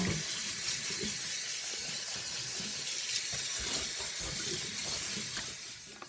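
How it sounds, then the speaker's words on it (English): Garlic mustard leaves washed under a running kitchen tap, a steady close splash and hiss of flowing water with soft rustling from the leaves, no voices. "you want to wash it very well."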